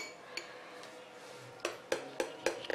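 Spoon or whisk stirring melted butter into chocolate cake batter in a bowl, quiet soft mixing followed by several sharp clinks of utensil against the bowl, close up.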